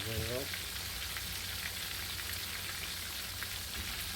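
Continuous sizzle of chicken frying in hot oil, a dense crackling hiss with a brief voice at the very start.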